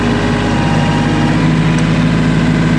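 An LS compact tractor's diesel engine idles with a steady low rumble and vibration, close and continuous with no talk.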